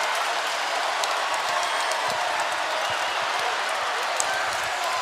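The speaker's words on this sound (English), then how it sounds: "The Spartan crowd is loving it." Crowd noise in the East Lansing gym during a Michigan State men's basketball game against Hillsdale College: a steady, loud wash of cheering and applause fills the space throughout.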